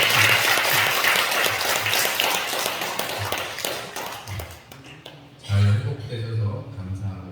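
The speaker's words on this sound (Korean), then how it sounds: "박수" A church congregation applauding during a Sunday service: dense, steady clapping fills the room for several seconds and then fades, and a voice speaks after it.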